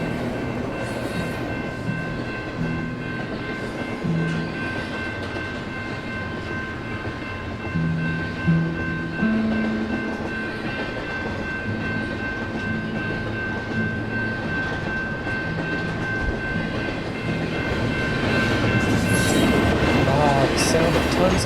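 A BNSF freight train rumbles steadily along the tracks in the American Southwest, a long continuous roll of steel cars with faint wheel squeals and occasional clunks, moderately loud and building slightly toward the end.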